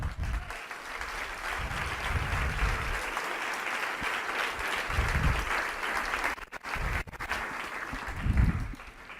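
Congregation applauding during a church service, sustained clapping through a hall with low booming thumps and a brief dip partway through, continuing unbroken for about nine seconds.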